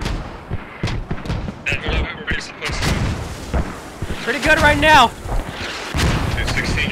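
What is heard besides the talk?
mortar fire in Squad video game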